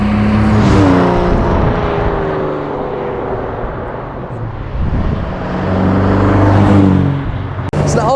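1958 Jaguar XK 150 drophead coupé with a 3.8-litre engine accelerating hard, loud nearby engine note climbing through gears in two rising sweeps, with a short dip between them, heard from inside the car.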